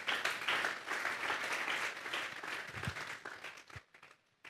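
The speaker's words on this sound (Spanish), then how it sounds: "Vamos a darle un fuerte aplauso pues al Señor." A church congregation gives a loud round of applause to the Lord, many hands clapping in a sustained wash that gradually fades and thins out toward the end, with a few isolated claps.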